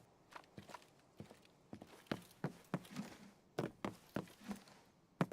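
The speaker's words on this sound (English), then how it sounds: "I'm a little spooked about these footsteps I'm hearing," Footsteps in the video game Arena Breakout Infinite, a soft, steady run of repeated steps that seem fairly distant and quiet, without speech.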